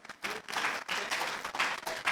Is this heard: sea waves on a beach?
no